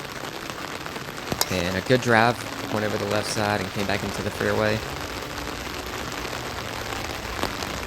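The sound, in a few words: pouring rain on golf course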